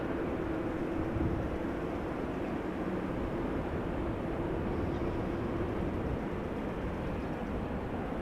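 An Air Europa airliner roars steadily on departure from Amsterdam Schiphol, a broad, continuous, moderately loud engine rumble with no voices.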